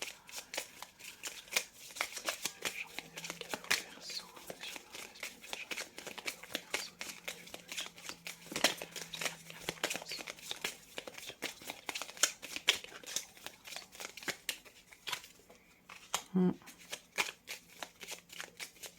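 Tarot cards handled and shuffled close up, a steady stream of crisp riffling and soft slapping clicks running continuously for nearly twenty seconds, with no talk.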